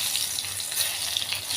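Chopped garlic cloves fry in hot oil in a pan, a steady bright sizzle and spatter running continuously and fairly close, with no talking.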